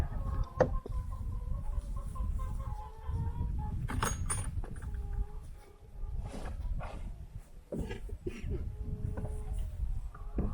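Hens cluck and murmur softly close by on a farm amid shuffling and bumping noises, with a few brief sharper calls and no talking.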